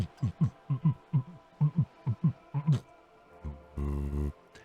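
Heartbeat sound effect from the Disco Elysium video game: a run of about a dozen steady, close, low thumps in regular rhythm, followed by a sustained low throbbing hum.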